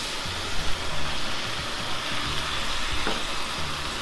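Ground beef frying with onions and garlic in a pan for shawarma, giving a steady close sizzle with faint stirring scrapes and one brief clack.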